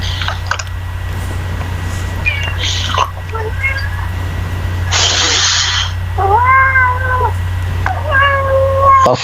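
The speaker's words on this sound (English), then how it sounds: "Danrex, I think your cat's dying." A cat meows several times in sharp, drawn-out calls over a steady low hum, with some rustling and faint whispering in the background.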